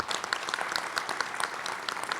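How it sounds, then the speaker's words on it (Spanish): Applause for guests at a weekly assembly of the MNE movement, a steady dense clapping from a crowd that holds even and moderately loud for the whole stretch, with no voice over it. "Un aplauso para ellos."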